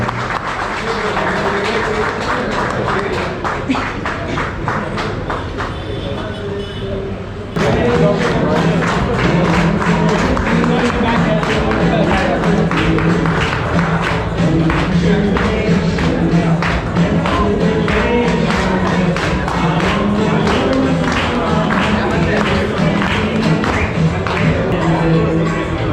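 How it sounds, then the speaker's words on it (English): Audience applause at the launch event for the Honda CB350 motorcycle at a BigWing Honda dealership in Mangalore: sustained, dense clapping from a large crowd, with a swell to louder, fuller clapping partway through over a low hum of the venue. "let's do a huge round of applause"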